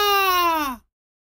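A voice imitates a small child crying during a picture-book reading, one drawn-out wailing sob that slides downward in pitch and then stops abruptly into silence.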